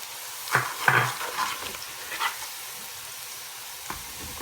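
Onions frying in a pan for chicken korma, with soft stirring scrapes and brief sizzle bursts over a low, steady hiss; faint and fairly sparse.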